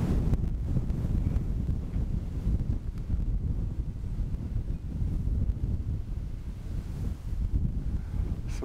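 Steady, loud wind buffets the microphone at an open-air model glider competition field, a continuous low rumbling gust with no voices.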